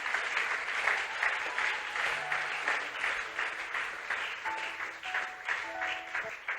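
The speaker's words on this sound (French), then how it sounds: "Est-ce que tu peux acclamer le Seigneur?" A church congregation applauds together during a French-language service, a dense, sustained wash of clapping heard at moderate distance from a crowd, with no one speaking over it.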